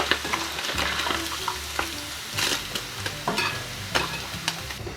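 Paneer frying in oil in a pan for vegetable biryani, with a steady sizzle and repeated scraping strokes of a spoon stirring it, close and fairly loud, no voices.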